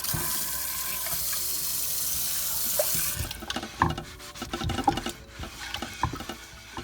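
Tap water runs and splashes while a cast-iron pan is scrubbed in a sink, a steady rush at first, then broken by intermittent clunks and scraping knocks as the pan is handled and rinsed.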